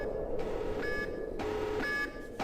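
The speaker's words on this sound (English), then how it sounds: "There's an alarm now." An alarm beep sound effect goes off while Gus drinks, repeating as a few steady electronic tones in a regular pattern over a low background hum, moderately loud and with no talking.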